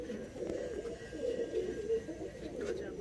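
A mature breeding pigeon, about fifteen years old, coos continuously in low, throaty murmurs close by. The cooing is steady and soft throughout, with faint background voices.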